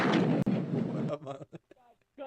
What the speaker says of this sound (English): The gunshots is off, man. The gunshots is going.